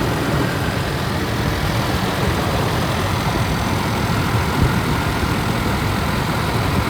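A Ford Ranger 4x4 with a 2.3-litre four-cylinder engine runs rough at idle, a steady low rumble that continues evenly throughout, fairly close and with no talk.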